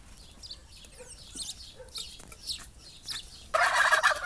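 Farm geese kept alongside heavy-line muscovy ducks honk and cackle in repeated short bursts nearby, swelling into a louder, denser chorus at the end.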